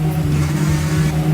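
A motorcycle engine revving in the Racing Hero arcade video game, a loud steady buzzing drone holding one pitch for the whole short stretch, with no talk.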